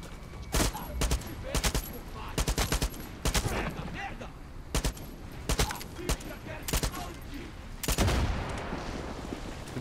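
A mounted gun fires in repeated short bursts during a Far Cry 6 firefight, loud, close and sharply percussive, the volleys spaced unevenly with brief gaps between them.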